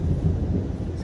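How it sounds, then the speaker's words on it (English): Thunder rumbles low and steady through a rainy storm outdoors near a horse being groomed, a loud continuous roll that fills the whole moment without a break or voices. "complete with thunder and lightning going on"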